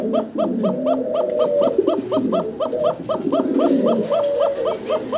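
A pair of koka pigeons coo continuously up close, a repeating rolling rhythm of deep throaty calls layered over each other, loud and steady throughout with no talking.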